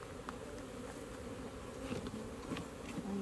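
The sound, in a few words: agitated honeybees buzzing at an opened hive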